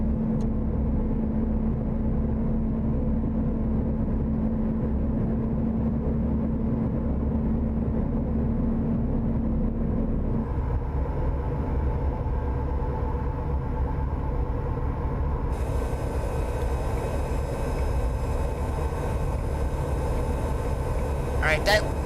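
A heavy truck's retarder braking in American Truck Simulator, driving the LT: a steady, loud engine drone that deepens partway through, then takes on a thin high whine near the end.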